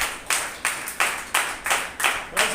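Congregation at a Sunday church service clapping hands in a steady rhythm, about seven sharp, evenly spaced claps in a little over two seconds, close and moderately loud with no talking.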